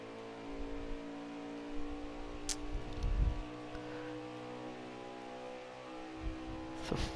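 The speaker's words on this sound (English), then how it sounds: "Try and hear that engine." Race car engine in a racing video game, a steady droning hum with layered harmonics that swells and revs briefly around the middle and again near the end, heard alone without talk.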